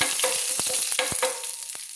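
Whole bay leaves, dried red chillies, cumin seeds and green cardamom pods crackle and sizzle loudly in hot oil in a pan, with repeated scraping strokes of a spoon stirring them.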